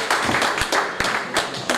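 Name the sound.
audience applause for Darren Jones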